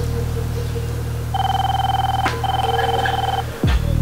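A telephone rings indoors in a scene from a Nepali short film: two clear electronic ring bursts close by over a low steady hum, ending with a brief click.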